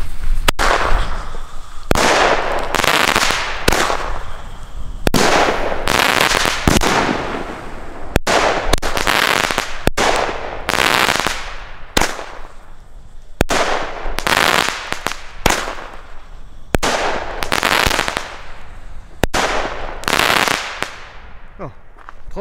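Alba Aeon 3-shot fan firework cakes fire a long series of sharp cracking bursts, each shot followed by a fizzing, crackling tail, in repeated clusters spread over the clip, loud and fairly close.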